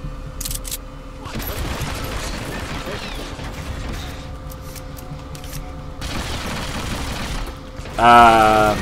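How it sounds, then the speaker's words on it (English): Gunfire in a Hitman Absolution shootout with hard-to-kill bodyguards: a crackling volley of shots and rapid bursts that thins and returns, with someone talking over it and a bright tonal chime at the end. "And then I have a shootout with these guys."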